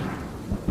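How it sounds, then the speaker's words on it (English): Deep thunder rumbles from a storm sweeping across the Brisbane cricket ground, the Gabba. The burst is brief, low and heavy, with a dull rolling boom and no voices. "The storm that swept through Brisbane, concentrating itself on Wollongabba and on the cricket ground."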